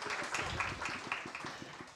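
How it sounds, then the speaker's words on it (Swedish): An audience at a panel discussion in Almedalen applauds, with many hands clapping in a steady, moderately quiet patter that sounds slightly distant. "En applåd skulle vi ha också"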